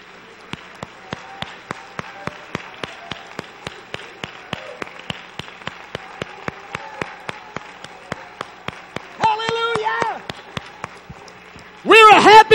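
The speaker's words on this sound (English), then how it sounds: "Somebody ought to clap your hands." A church congregation claps along in a steady rhythm, sharp regular hand claps under a murmuring room with voices, then singing and shouting swell near the end.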